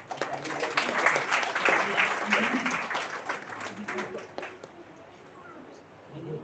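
An audience applauding in a hall, a dense patter of clapping that holds steady and then thins out and fades toward the end, with a few voices mixed in underneath.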